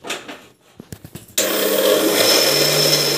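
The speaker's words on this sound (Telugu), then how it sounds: "ఇలా పట్టుకోవాలి మిక్సీ" A kitchen mixer grinder starts up after a few soft knocks and runs loud and steady, whirring as it grinds leftover cooked rice with water into dosa batter.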